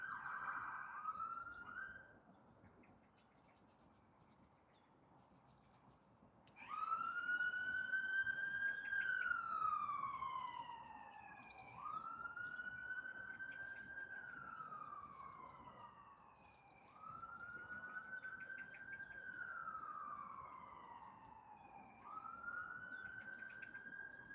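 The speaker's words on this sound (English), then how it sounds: "Lots of sirens buzzing around here." A wailing emergency siren rises and falls repeatedly in long sweeps, moderately distant, with a faint higher chirping pattern alongside and no talk.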